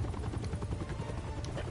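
Helicopter rotor thumping in the video game Far Cry New Dawn, a steady fast chopping beat close by and fairly loud, running alone with no talk.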